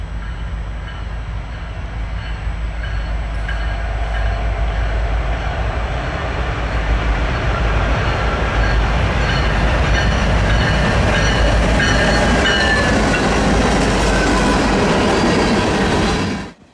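Freight train hauled by GE locomotives, a DC GEVO and an AC unit, rumbling past close by with steady wheel clatter and rail noise that builds and holds loud for about sixteen seconds before cutting off.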